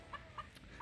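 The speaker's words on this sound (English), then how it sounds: "Look at that chicken. He's loving that dirt bath." A chicken in a backyard coop run clucks softly three times in an even rhythm, faint and slightly distant, with no talking over it.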